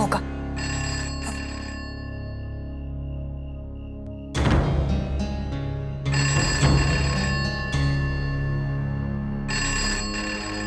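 A landline telephone rings in a home, loud electronic ring bursts repeating in a regular on-off pattern across the clip, with a brief gap of near quiet between rings.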